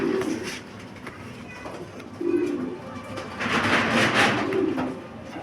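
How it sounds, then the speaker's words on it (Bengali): A large male pigeon from a famous show line coos close by in repeated low, throaty rolls, with background chatter between the calls. "দেখা ভাই নটটার ডাকটা কি ভাই, অস্থির একটা নর ভাই।"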